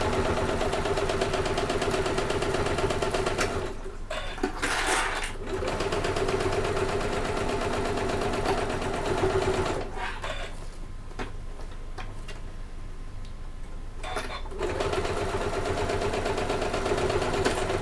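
Sewing machine stitching a cotton bag, a close, loud rapid mechanical whir with ticking needle strokes, running in long bursts separated by short pauses.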